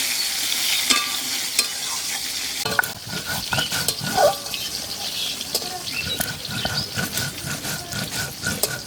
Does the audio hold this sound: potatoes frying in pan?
yes